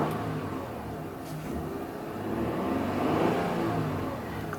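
The 3.5 liter V6 of a 2017 Honda Odyssey Elite minivan runs warm and steady, a smooth mid-pitched hum that swells slightly as it revs before settling back.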